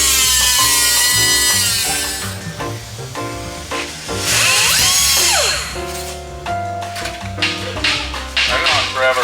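A cutting tool slices through a sheet metal patch panel for a 1955 Buick Century restoration, giving loud, continuous hissing and grinding bursts that start and stop throughout, with speech heard between cuts.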